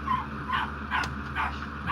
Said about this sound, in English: God, this fucking dog stop barking